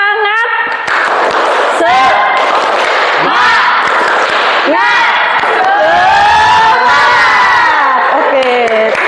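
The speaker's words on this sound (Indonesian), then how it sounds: "Tepuk semangat" A standing audience performs the rhythmic 'tepuk semangat' spirit clap, with loud group shouting and chanting voices over steady percussive claps throughout.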